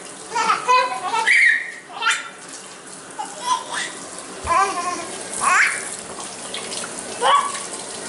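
Water runs and splashes in a sink as a young child plays in it, with bursts of children's voices and chatter over the splashing and dribbling.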